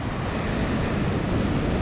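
Ocean surf rolling in along a quiet stretch of Eyre Peninsula coastline in South Australia, a steady broadband wash of breaking waves with wind buffeting the microphone throughout.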